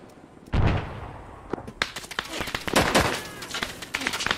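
Gunfire in the Vietnam-era shooter SOG Prairie Fire, a sudden loud blast followed by dense, rapid bursts of automatic fire and overlapping shots, with a voice talking underneath.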